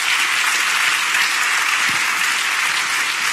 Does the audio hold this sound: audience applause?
yes